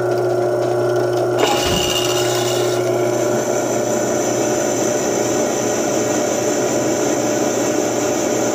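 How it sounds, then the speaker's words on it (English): A drill press spins 1/2 inch ball stock held in its chuck, a steady, loud whirring hum with a brief clunk and shift in tone as it gets going. "I put my 1/2 inch ball stock in the drill chuck."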